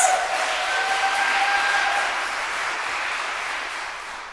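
Audience applause at the Magdalene Omaha 2024 graduation ceremony, a dense wash of clapping from a crowd with a brief whistle, fading gradually toward the end.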